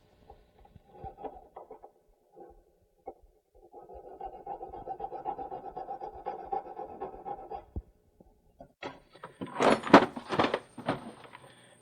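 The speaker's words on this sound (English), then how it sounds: "I'm going to take my barrette file, flush out the other side of the sizing stock" A barrette file rasps across ring sizing stock at a jewelry repair bench, making several seconds of soft, scratchy back-and-forth strokes, then a louder burst of close metallic clatter near the end.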